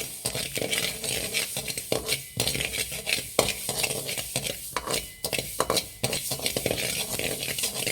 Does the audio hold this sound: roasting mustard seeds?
yes